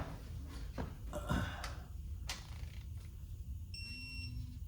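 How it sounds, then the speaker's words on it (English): A torque wrench gives a short electronic beep near the end, following a few clicks and metallic clanks from close-up work changing the oil on a 1977 Honda CJ360T motorcycle. "you'll know that this is torqued down when it beeps at you"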